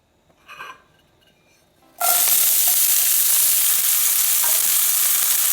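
Onions, garlic and parsley dropped into hot vegetable oil in a pot, bursting into a loud, steady sizzle after a brief quiet clink, the frying hiss continuing close and unbroken.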